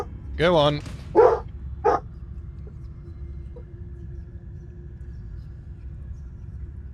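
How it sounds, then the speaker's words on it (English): A dog barks and whines in a short burst of yips and whimpers, close and fairly loud, then falls quiet over a low steady room hum while someone speaks briefly. "Oh, please excuse the dog."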